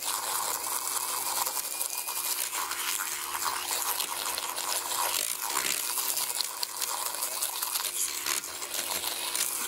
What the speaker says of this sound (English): I just keep it right toward the top to froth that up and get the cold foam